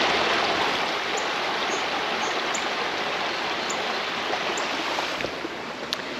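Creek water rushes steadily through a Pennsylvania state park, a loud continuous broadband flow close by with small birds chirping faintly above it, no voices.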